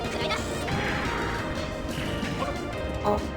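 A mecha attack in Super Robot Wars hits hard: a loud, dense crash of impact effects sits over a full game soundtrack with a voice in it, carrying on at high level with no break.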